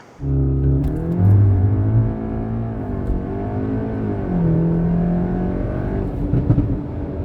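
A 2022 Cupra Formentor VZ 2.0 TSI tuned to 453 hp launches hard in a 0-100 km/h run, its engine loud and close, rising through the revs with short dips at gear changes.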